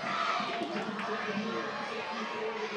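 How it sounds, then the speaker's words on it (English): A crowd fills the stands at a Lake Orion versus Oxford high school football game on a cool, cloudy night, giving a steady, moderately distant roar of chatter and cheering throughout. "good crowd here tonight, as there always is for Lake Orion Oxford."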